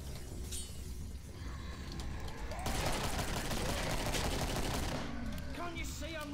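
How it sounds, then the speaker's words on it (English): Gunfire and mechanical weapon clatter from the zombie shooter Killing Floor, with a reload amid dense, continuous shooting and impacts that fill the whole stretch, a muffled voice faintly underneath. "Can't you see I'm reloading?"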